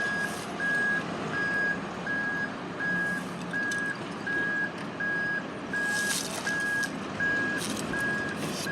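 A truck backs up and maneuvers at a road crash scene, its reversing alarm beeping in a steady, evenly spaced series over a loud idling diesel rumble and outdoor traffic noise.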